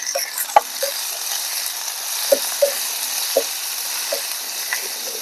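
Shredded cabbage frying in hot oil with turmeric and salt for a cabbage egg fry, a steady close sizzle broken by a few sharp spatula scrapes and knocks as it is stirred.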